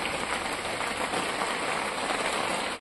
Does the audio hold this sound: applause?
no